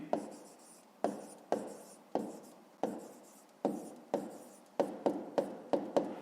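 Handwriting with a pen on paper while working a fifth-grade maths exercise, heard as a series of short, soft scratchy strokes in an irregular rhythm, close and quiet, speeding up toward the end.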